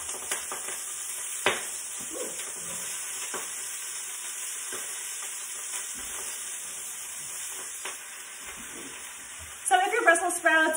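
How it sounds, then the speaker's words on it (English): Steady bright sizzling of Brussels sprouts frying in a pan on the stove, with occasional clicks and stirring knocks, and a brief voice toward the end. "You're gonna hear that nice sizzle."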